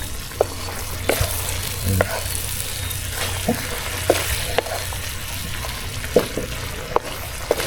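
Oil sizzling steadily in a pan as banak (mullet) fries, with occasional scraping clicks of a utensil stirring and turning the fish.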